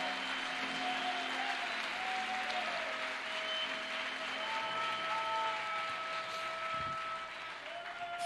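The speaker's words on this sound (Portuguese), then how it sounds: "Alguém pode dar um glória, dar um aplauso ao Senhor aí essa noite, meu irmão?" Church congregation applauding the Lord during an evening worship service, a broad steady wash of many hands clapping at once, sustained evenly for several seconds before easing slightly at the end.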